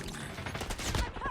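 Rapid bursts of automatic gunfire from the mobile shooter game Call of Duty Mobile crackle loudly and continuously through a short stretch of dense combat noise.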